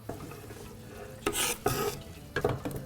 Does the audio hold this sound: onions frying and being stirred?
yes